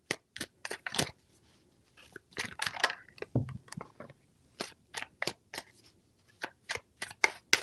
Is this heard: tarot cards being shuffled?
yes